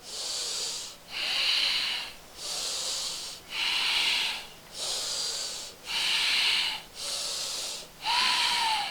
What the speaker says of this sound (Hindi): सांसों की आवाज आए जब छोड़े